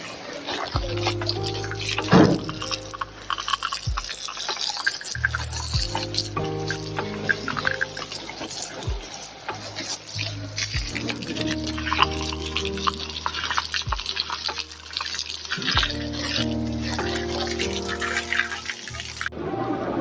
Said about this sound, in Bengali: তাই পিলারে জল দিচ্ছি পাইপ দিয়ে পুরো